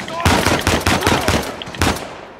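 Gunfire in Uncharted 4, a rapid burst of loud, punchy automatic shots followed by a gap and a single final crack, close and prominent.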